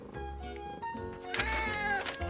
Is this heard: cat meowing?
yes